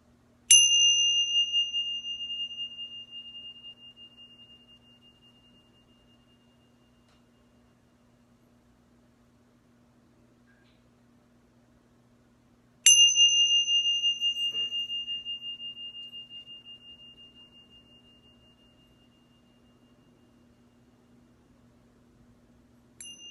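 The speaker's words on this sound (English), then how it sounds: "Simply bring it back to the sound of the bell." A meditation bell is struck twice, about twelve seconds apart, each ring bright and clear before slowly fading into near silence, with a third strike just beginning at the very end.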